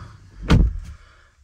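Door of a 2022 Volkswagen Touareg 3.0 V6 R Line being pulled shut from inside, a single close, solid thud with a short rattle, alone in a quiet cabin.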